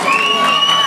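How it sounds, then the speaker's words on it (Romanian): Crowd cheering and applause for award winners at an outdoor town festival, a short loud burst with sustained whistle-like tones and shouting over the clapping. "Aplauze pentru Amun Fitness"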